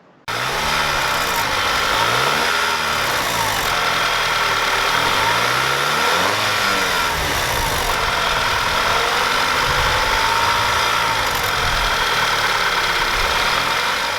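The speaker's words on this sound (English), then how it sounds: "he had that rattle noise, and here's a clip of that now" A 2.0 TSI turbocharged car engine runs steadily at idle with a persistent metallic turbo wastegate rattle riding over the low engine drone, close and continuous.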